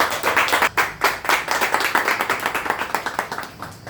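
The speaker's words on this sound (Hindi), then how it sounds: "गुरुदेव के लिए जोरदार तालियां।" Audience clapping for a guru at a monthly RCM business discussion meeting, a quick uneven patter of hands that pulses in small bursts and carries on steadily throughout, fairly close, with no talking over it.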